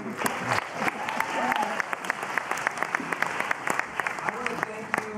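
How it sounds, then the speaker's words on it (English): Audience applause for a congressman at a Peace Corps event, a steady wash of clapping with sharp individual claps standing out while a voice speaks over it. "And another round of applause for Congressman Farr."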